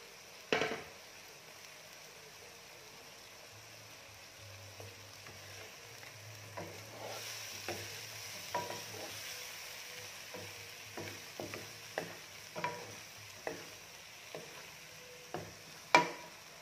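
Bean sprouts being stir-fried for tofu wrapped in banana leaf, a soft sizzle under a run of sharp spatula scrapes and taps against the pan, close but fairly quiet.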